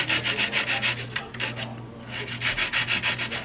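Steady back-and-forth rasping of sanding a broken carbon fiber propeller, repeated rhythmic strokes with a brief pause midway, close up, with a low hum underneath.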